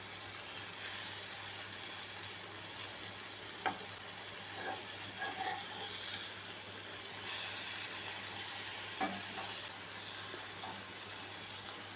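Pieces of yam fry in oil in a pan with a steady crackling sizzle, joined by a few soft clicks and stirring taps, moderately quiet and close, with no voice.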